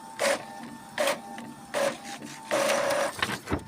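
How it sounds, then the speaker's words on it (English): An Epson EcoTank inkjet printer makes a copy, with repeated mechanical whirring bursts as the print head shuttles back and forth, close and fairly loud, ending in a longer pass and a few clicks. "let me make a copy here"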